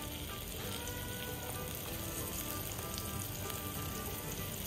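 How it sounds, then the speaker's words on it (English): Steady, dense sizzling of okra frying in olive oil, a continuous crackling hiss with small pops, close and fairly loud, no talking. "You want them just to sizzle in that oil like that right there."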